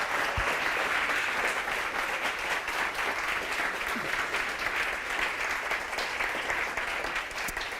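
Audience at a book presentation on Christ's teaching breaks into sustained, even applause that fills the room, dense and steady for several seconds without voices over it.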